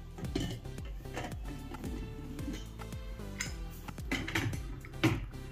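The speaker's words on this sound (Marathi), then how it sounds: "चिकनच्या भांड्याला आता आपण बाहेर काढून टाकू" Metal pots and pans clank and scrape repeatedly, with several sharp clinks as a pot of steamed Malvani chicken roast is lifted out and set down nearby, no talking.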